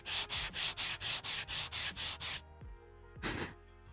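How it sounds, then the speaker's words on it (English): Rhythmic back-and-forth rubbing of sandpaper on laser-engraved wood, about ten even strokes, then a short pause and one more stroke, close up. "Let's try sanding that."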